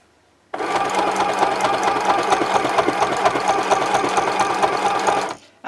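A sewing machine stitches fabric in a fast, even rhythm, running loud and close for about five seconds before stopping. No voices.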